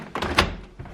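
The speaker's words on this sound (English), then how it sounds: "get the doors open." Doors are pulled open at home, giving a short, close thunk and rattle amid faint background sound.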